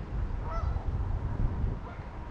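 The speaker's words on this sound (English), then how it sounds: "And the geese." A couple of honks from geese over a low, rumbling background noise, brief calls fairly faint in the mix, along the Des Plaines River Trail in Chicago.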